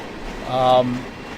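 A short electronic beep sounds as a train spawns in the Run8 V2 train simulator game, a single brief tone standing out clearly against a quiet background.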